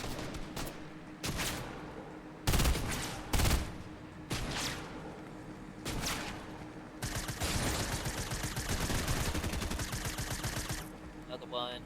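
Gunfire in the video game Fortnite: separate loud bursts of shots for several seconds, then a long run of rapid automatic fire near the end, all close and dense.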